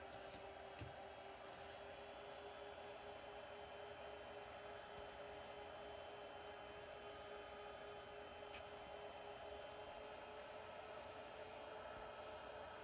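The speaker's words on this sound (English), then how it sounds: "the machine is a little louder with 3 fans" A Supermicro SuperServer SYS-E300-8D fitted with three 40mm fans gives off a steady, faint whirring hum with a constant pitch and no voices over it.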